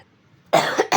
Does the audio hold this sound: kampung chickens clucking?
no